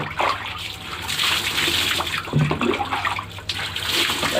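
Water is poured over the body while bathing, a loud, close, continuous splashing and gushing that rises and falls across several seconds with no talking.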